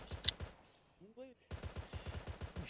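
Gunfire in the military game Arma 3, with rapid rhythmic shots in repeated bursts around a short pause, fairly quiet and close.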